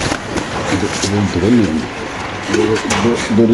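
Pigeons coo in throaty, repeated bursts, close by at a pigeon farm, with background chatter and general bustle.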